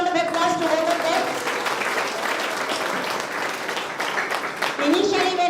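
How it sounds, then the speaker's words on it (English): Audience applause at an international education conference, a dense steady wash of clapping filling the hall for several seconds, with a voice faintly audible over it. "Let us give a big round of applause to both of them."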